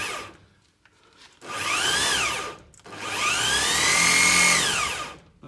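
Drill on a motorised mill-drill table spinning at high speed, two long loud whining runs that rise and fall in pitch, separated by brief quieter pauses.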